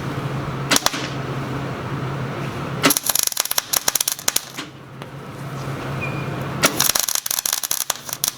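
Stick welding on Harbor Freight trailer jacks produces bursts of harsh crackling and sputtering arc noise, three distinct runs separated by quieter pauses under a low background hum.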